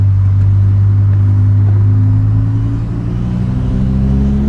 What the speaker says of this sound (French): Le son du M5 V10 est magnifique.